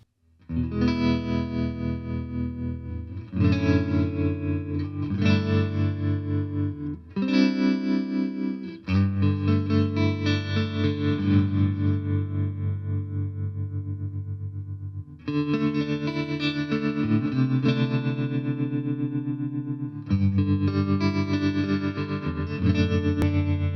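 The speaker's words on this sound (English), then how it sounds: "hold down the tremolo button to engage the tremolo" Sustained electric guitar chords run through a Tone King Imperial tri-tube preamp pedal, with a pulsing, wavering tremolo throb and a couple of brief breaks between phrases.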